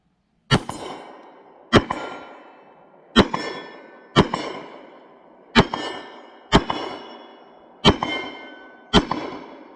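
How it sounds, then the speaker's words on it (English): Eight sharp, loud reports from an H&K P30S 9mm pistol fired at about 30 yards, spaced roughly a second apart, each snapping cleanly and then ringing out in a short decaying tail. "We'll take some shots with the P30 from a little farther."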